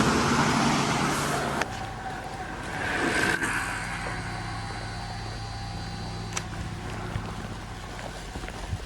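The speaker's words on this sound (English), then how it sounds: "there's been about another 50 cars and vans in the last 4 minutes" Cars and vans pass along a nearby road, a steady roadway rumble with occasional louder swells as individual vehicles go by, with wind noise and no talking.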